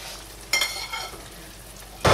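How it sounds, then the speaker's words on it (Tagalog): Beef cubes and water are stirred in a pan for a baked macaroni sauce, giving a couple of short scraping, sloshing bursts that rise over quiet background hiss and end abruptly. "Then, mix it. And let it simmer."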